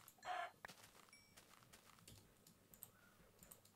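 Chicken clucking in the video game Survivalcraft, a short burst of clucks near the start, faint and brief over quiet game background with clicks and light noise.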